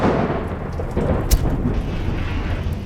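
Thunder rumbles under steady rain with dripping, added as effects for an AI-generated film, a continuous low roll with a sharper crack near the middle.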